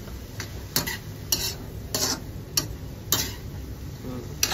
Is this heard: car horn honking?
no